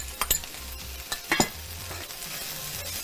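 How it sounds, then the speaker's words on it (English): One chopped onion going into a pan of frying okra and tomato, with a steady low sizzle, scattered clicks and scrapes of stirring, a few sharper knocks near the start. "so now we're going to add our onions. So this is one chopped onion. It's going to go in there."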